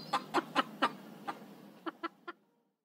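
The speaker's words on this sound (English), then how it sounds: "Can you cluck like a chicken?" A chicken clucks in a quick series of sharp, close calls, four strong ones then a pause and three softer ones, with no other sound around them.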